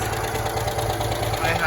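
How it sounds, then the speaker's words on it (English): A Citroen 2CV engine idling, a steady low chugging throb with a faint pulsing rhythm, close and continuous, with a slight rise at the end. "I can actually hear the engine sound for once."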